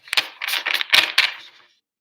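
A quick, crisp flurry of riffling shuffles of a card deck, a dry rapid fluttering close by that ends in a soft settle.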